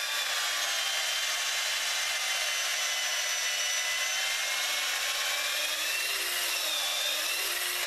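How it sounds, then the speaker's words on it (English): A reamer bores through an EVA foam fishing rod grip on a workbench, giving a continuous close rasping scrape that holds steady the whole time. "I'm gonna run the reamer right up to the hilt"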